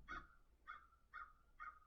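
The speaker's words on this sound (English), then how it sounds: "Did you hear the birds outside my window?" Birds calling outside a window during a quiet breath meditation: four short, honking calls evenly spaced about half a second apart, moderately faint against a low room hum.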